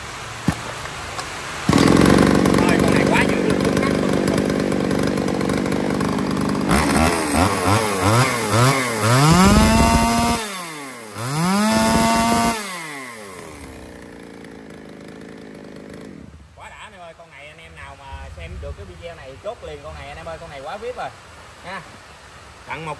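A Shindaiwa 353 chainsaw engine starts and runs loudly, with revving that rises and falls and brief drops to idle, close to the listener.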